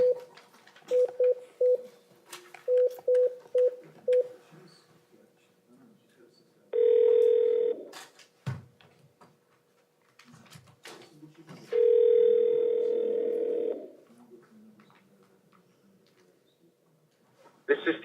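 Speakerphone call placed from a courtroom: a quick series of touch-tone dialing beeps, then two longer steady tones, with muffled voices and room noise in between.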